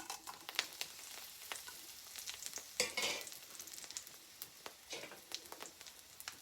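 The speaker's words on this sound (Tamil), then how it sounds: "எண்ணெய் சூடாகிட்டுது இப்போ நான் செத்தல் மிளகாயை போடுறேன்" Dried red chillies hit hot oil, for a drumleaf stir-fry, setting off a close, steady crackling sizzle with sharp pops and spatters scattered through, including a brief louder burst midway.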